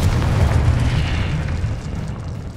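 Fire and blast spell effects from Hogwarts Legacy, a dense roaring burst of explosive rumble with crackling fire, loud and continuous throughout without voices.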